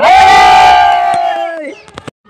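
A group of people cheers and shouts loudly together as a quiz-challenge team wins a 5,000 taka prize, with a sustained, close burst of voices that fades at the end into a few scattered claps.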